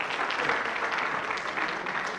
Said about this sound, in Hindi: इन सब के लिए ताली बजाओ।